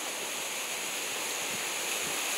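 Waterfall at a stream resurgence pours in a dense, constant broadband roar close to the microphone, steady throughout with no talk.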